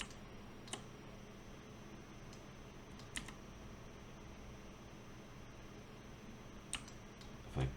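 Sparse, faint clicks of computer keyboard keys pressed one at a time during 3D modeling in software, over a steady low background hiss.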